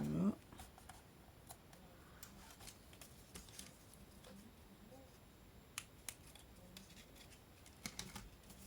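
Scissors snipping paper while making a birthday card, a series of faint, sparse clicks and cuts in a quiet room.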